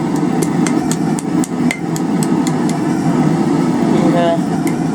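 A forged coal rake is hammered to put a slight curve in it, with steady, rapid metallic strikes ringing close over a constant background drone of fans or machinery.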